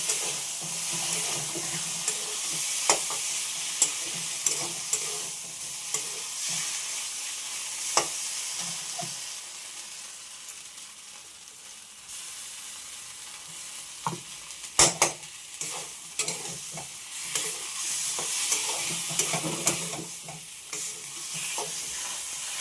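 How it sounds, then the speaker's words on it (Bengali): Pointed gourd fries in a pan with a bay leaf and a paste of mustard, poppy seed and coconut, a steady close sizzle broken by scraping stirs and a few sharp clinks. "তো পটল তো ভাজা হয়ে গেছে, সাথে ওই একটা তেজপাতা ফোড়ন দিলাম, আর এখন মশলাটা দিয়ে দিলাম।"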